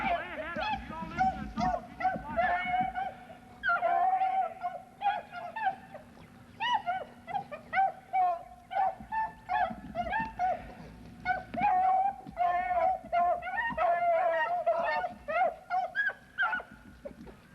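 Hunting dogs bay and yelp steadily on a swamp rabbit's trail, many overlapping honking howls carrying through the woods, with hunters talking briefly alongside.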